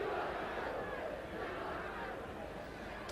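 Massed fans at Port Vale against Derby in Andy Porter's testimonial raise a continuous broad roar, calling for him to shoot from a free kick; the noise starts strongest and eases a little over a few seconds.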